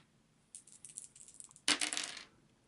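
Three dice rolled during a Shadows of Brimstone board game session clatter across a surface, a light rattling run followed by a sharper, louder tumble that settles within a second.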